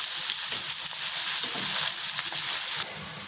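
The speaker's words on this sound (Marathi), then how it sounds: "इथे कढाईमध्ये तेल घेतलंय छान गरम झालेलं आहे लसूण टाकून घेते आणि कांदा हे परतून घेते" Garlic and onion fry in hot oil in a kadai, giving a constant close hiss and crackle with faint stirring scrapes, and the sizzle drops a little near the end.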